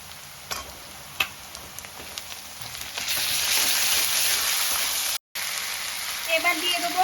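Ginger garlic paste frying with browned onions in a pan, a soft crackle that swells into a louder steady sizzle partway through, with a few ticks and stirring sounds.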